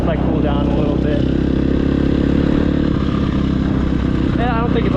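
A KTM 250SX-F four-stroke dirt bike idles and blips nearby, a loud, throbbing engine with brief revs rising and falling, while someone talks over it.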